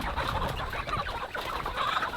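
An American Bresse rooster clucking while being held, heard close and continuous as soft, rapid, agitated clucks and murmurs with no speech.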